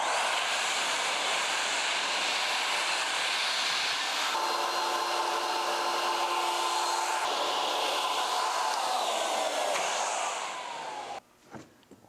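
A Ruwac Red Line industrial vacuum runs with a loud, steady, broadband whooshing roar that holds evenly for about ten seconds, then winds down and cuts off near the end. A few clunks follow.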